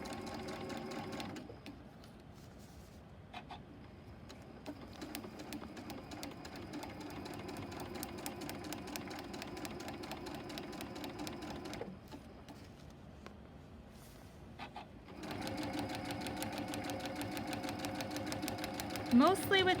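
Sewing machine back-stitching a long fabric seam for a quilt block, running in steady rapid runs with short pauses between them, close and loud; a person speaks at points.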